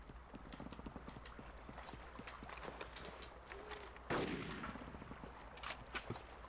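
Shotgun blasts ring out in the video game Conker's Bad Fur Day, a quick burst of loud shots followed by a single heavy boom, layered over busy clattering game sounds and ambience.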